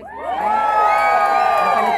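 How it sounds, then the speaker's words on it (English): Large audience screaming, yelling and cheering at full volume on cue, a dense sustained roar of many high voices swelling quickly and holding loud throughout. "I need to hear the loudest screams, yells, cheers, and applause on the count of three"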